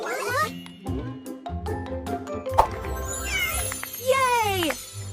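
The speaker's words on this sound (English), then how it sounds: "C is for cat." A cat meows several times, rising and falling cries near the mic, mixed with a child-friendly musical backing and brief plucky notes.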